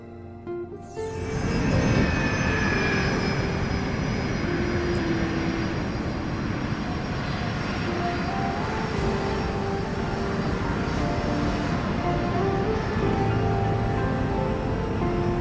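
A passenger airplane taxiing out along an airport taxiway, its engines a steady, loud broadband roar with a faint whine above, rising in the first two seconds and then holding constant throughout.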